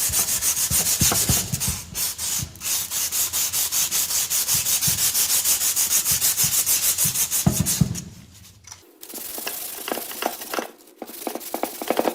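Medium-grit emery cloth rubs back and forth over a part on a 45-year-old engine during a teardown. The strokes are close, rapid and rhythmic, with a brief pause before the sanding resumes at a choppier pace.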